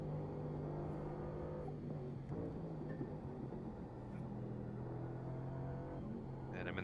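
A race car engine in a Nürburgring 24-hour racing video game hums at a steady, low, even pitch, faint and continuous with little change in speed, and no talk.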